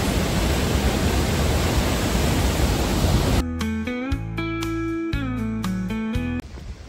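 Steady broadband rush of the lower waterfalls at Johnston Canyon in Banff fills the first half, then gives way to tonal music with distinct notes over a softer hum.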